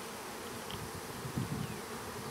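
Honey bees buzzing at an opened hive, a steady dense hum of many insects close by, with a few louder swells as individual bees pass near.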